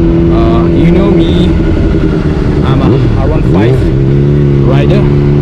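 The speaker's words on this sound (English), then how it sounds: "imagine riding a 600cc bike." A Honda CBR600RR 600cc sport motorcycle engine drones loud and steady while riding, with pitch sweeping up and down as the rider shifts and revs, and some wind noise over it.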